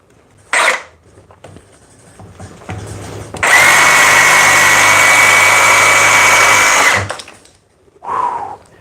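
A Milwaukee Super Sawzall reciprocating saw makes a straight cut with a loud, steady motor buzz lasting a few seconds, set between brief bursts of sound before and after.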